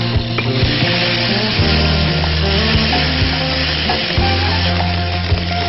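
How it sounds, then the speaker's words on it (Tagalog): Onions and beef frying in a pot for stew, a loud continuous sizzle with repeated scraping strokes from stirring. "Cook our onions. Get this to caramelize."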